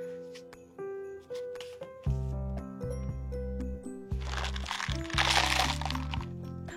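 Raspberry dark chocolate muesli with cacao crunch, quinoa and chocolate coconut-sugar-coated cranberries being stirred, a dry crunchy rustle that swells midway over steady background music.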